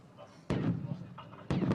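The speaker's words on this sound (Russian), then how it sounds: "Для отвлечения внимания террористов произведены отвлекающие взрывы и стрельба холостыми патронами." Two sharp, loud bangs about a second apart from diversionary explosions and blank gunfire during a Russian military counter-terrorism drill in Kazakhstan, each a sudden broadband burst with a short decaying tail, close by.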